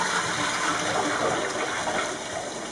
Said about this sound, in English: grab the water base and dump it out